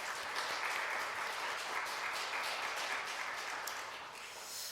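A church congregation at a Wednesday service in Bucheon applauds to welcome a visiting pastor and his wife: steady, dense clapping from many hands that fills the room, then eases slightly at the end.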